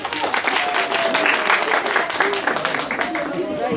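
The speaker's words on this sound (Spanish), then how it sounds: "Aplauso para la pareja número 3" Crowd applause at a wedding party in Apatug Alto for a couple, continuous loud clapping lasting several seconds, with a whistle and chatter threaded through.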